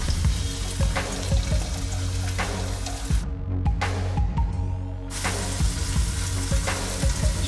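Garlic frying in a pan for a small feijoada: a continuous loud sizzle with scattered clinks and stirring, a brief hiss-dropping pause midway, close and without speech.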